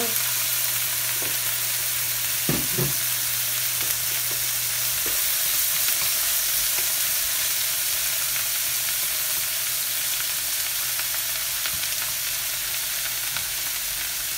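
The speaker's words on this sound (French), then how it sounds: "On va commencer à mettre notre crevette." Shrimp sizzle steadily in a hot pan while pad thai is being cooked, a continuous close frying hiss with a few soft clicks of stirring and no talk.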